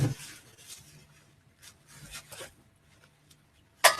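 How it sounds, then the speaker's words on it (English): A cloth wipes excess oil off a waffle iron in soft, scattered rubbing strokes at close range, ending in a sharper scrape, with no speech. "Give that a wipe, get the excess oil off."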